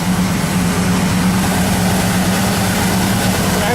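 A 1972 Ford Custom engine idles steadily just after a cold start, heard from behind the car as a continuous low rumbling drone with no pauses, loud and close.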